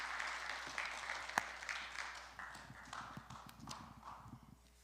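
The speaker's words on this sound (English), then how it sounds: "A round of applause for Dr." Audience in a church hall applauding a speaker, sparse uneven clapping that thins and fades over a few seconds, with faint voices underneath.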